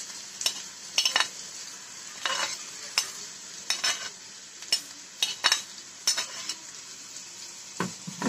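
Chopped garlic and onion fry in a pan, with bursts of sizzle and clattering stirring strokes coming in uneven pulses over a quieter steady hiss, close and without speech.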